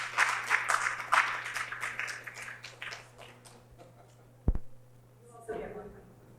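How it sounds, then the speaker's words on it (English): An audience at a talk on Harriet Tubman's legacy claps for the presenters, dense and lively at first, then thinning and fading, with a sharp knock and a voice near the end. "If we can give them another round of applause."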